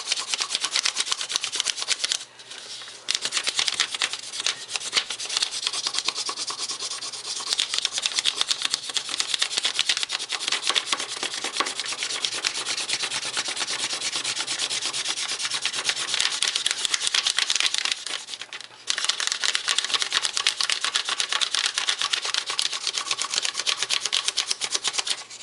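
A colored pencil rubs back and forth over paper laid on a nature texture, a close, dense scratchy rasp that runs almost continuously with two brief pauses.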